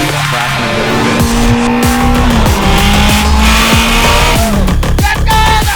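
A Honda Fit lapping a race track, its engine loud and close with rising and falling revs through gear changes, tires squealing through corners under steady road and wind roar.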